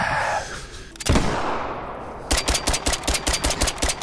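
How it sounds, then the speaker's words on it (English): Gunfire cracks in a hunting video game: one heavy shot, then a rapid string of about a dozen evenly spaced loud reports, like an automatic weapon. "Stop shooting in my home."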